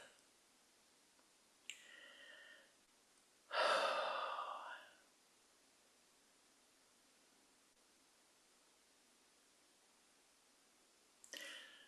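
Deep, slow breath during a passive seated breathing exercise, a single long airy inhale-exhale swelling at close range after a faint short breath, then quiet, with another soft breath near the end; no talking.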